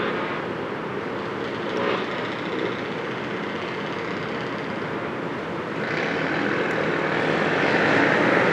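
Emirates Boeing 777-300ER airliner landing at NAIA after a flight from Dubai, heard as a steady, broad jet engine roar that stays fairly constant and swells slightly louder toward the end, with no talking.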